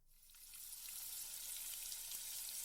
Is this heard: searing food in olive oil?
yes